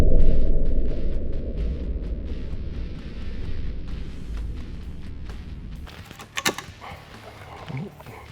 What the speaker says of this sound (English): my next shot is going to be the Victory HLR into the wood block